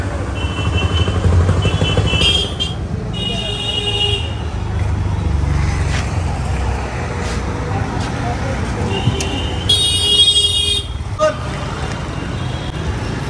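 Busy street traffic near Garia metro station during the Durga Puja festival, with buses crowding the road: a steady engine rumble and passing vehicles with bursts of horn tooting, while a person talks over it.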